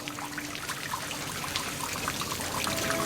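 Fresh water trickles and drips steadily from volcanic rock, a continuous close dribbling with scattered droplet ticks and no voices.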